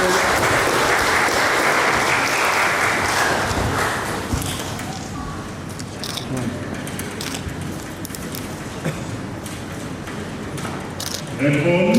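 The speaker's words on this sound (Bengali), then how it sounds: "একটা হাততালি হবে জোরে।" Loud applause from a wedding crowd, strongest in the first few seconds and then settling into steadier, softer clapping with scattered thumps and crowd noise throughout.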